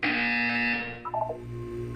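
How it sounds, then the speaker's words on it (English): Electronic buzzer from the video game Portal 2, a loud sustained harmonic buzz lasting about a second before decaying, followed by a short run of higher tonal blips over a lingering low hum. "You will hear a buzzer."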